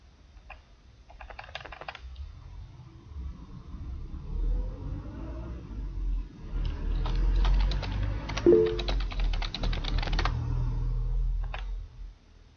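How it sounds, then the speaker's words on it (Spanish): Someone types on a computer keyboard in a room. The keys clatter in uneven bursts, near and moderately loud, with pauses between runs of keystrokes. "Qué feo suena el teclado."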